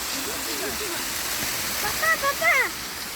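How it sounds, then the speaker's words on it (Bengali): A steady broadband rush of falling water, like a waterfall, continuous throughout, with a voice speaking briefly over it toward the end. "এখানে একটা ঝর্ণা দেখতে পাচ্ছি"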